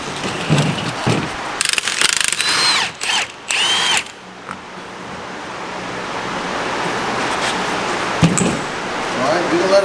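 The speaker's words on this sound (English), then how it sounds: "All I need to do is put something on the shaft of the shock and drive this nut out right there." A power tool rapidly drives a nut off a shock absorber shaft during suspension work on an Ecotec car, heard as several loud, choppy bursts close by, followed by steady background noise.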